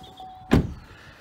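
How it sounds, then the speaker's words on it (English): A car door of a diesel Vauxhall Astra 1.3 CDTi Ecoflex shuts with a single solid thunk, close by, followed by quiet. "Shut the door."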